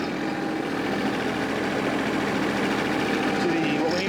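A compact tractor's engine runs steadily at close range, a rough continuous drone as it is throttled up for PTO tilling.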